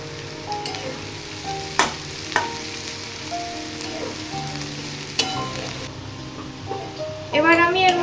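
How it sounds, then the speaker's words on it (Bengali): Cabbage sizzles and fries in a hot pan, with steady crackling and intermittent scraping stirs and clinks of a utensil throughout, close up and fairly loud. "বাঁধাকপিটা দিয়ে ভালো করে ভেজে নেব"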